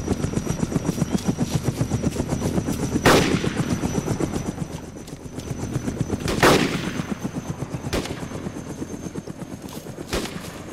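Gunfire aimed at a zombie in the video game DayZ, several sharp loud shots spaced a few seconds apart over a steady rapid mechanical thrumming like a helicopter rotor.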